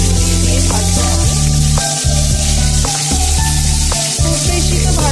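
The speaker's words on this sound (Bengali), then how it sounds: "কড়াইটি দিয়ে কড়া দিয়ে ভাজতে হবে।" A continuous loud sizzle of prawns frying in a hot kadai for prawn malaikari, the frying hiss never letting up for about five seconds, with background music underneath.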